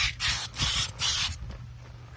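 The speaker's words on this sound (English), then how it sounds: "I'm going to leave this brush on when I spray and see what it does." Three short bursts of a spray nozzle hissing close by, evenly spaced, followed by a quieter fading hiss, as Turtle Wax Power Out heavy-duty carpet and mat cleaner is sprayed with a brush attached.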